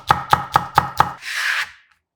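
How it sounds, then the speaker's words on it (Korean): Knife finely chopping a Cheongyang chili pepper on a cutting board: five evenly spaced crisp taps in quick rhythm, close and clear, followed by a brief scraping sweep. "쫑쫑 썰어 준비합니다."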